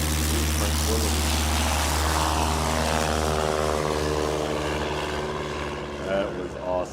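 Small propeller airplane making a short-field takeoff at a STOL competition in Gallatin, Tennessee: a loud, steady engine and propeller drone close by throughout, easing slightly toward the end.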